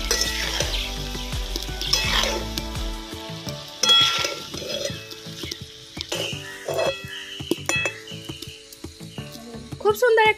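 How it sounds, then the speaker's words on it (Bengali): Fried egg and pithas are stirred together in a gravy in a pan, with frequent scraping and clinking of the spoon against the pan over a light frying sizzle, close and fairly loud. "এবার সমস্ত কিছু খুব ভালোভাবে মিশিয়ে নিচ্ছি।"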